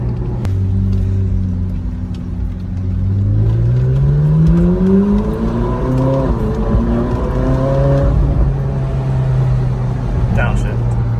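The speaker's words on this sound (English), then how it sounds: "On stock exhaust, this thing sounds like this." A Ferrari 458 Spider on its stock exhaust roars loudly and continuously, revs climbing steadily through the gears with a rising howl before easing off, the engine close and dominant throughout.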